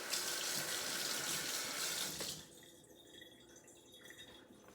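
Tap water runs into a sink as a spoon is rinsed, a bright steady splashing for about two seconds that stops abruptly and leaves faint quiet drips.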